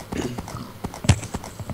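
Horse hooves clip-clopping in a video game, a quick run of close hoof knocks in uneven rhythm over a faint background.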